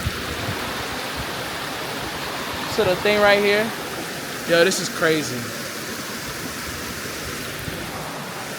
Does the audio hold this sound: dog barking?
no